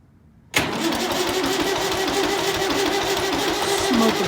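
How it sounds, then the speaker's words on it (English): A 990 tractor engine cranks and fires abruptly after near silence, then keeps running loud and steady with a rough, rumbling idle close by. "I think she's gonna crank."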